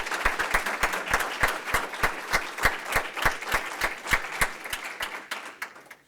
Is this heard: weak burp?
no